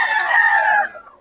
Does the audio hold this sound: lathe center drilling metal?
no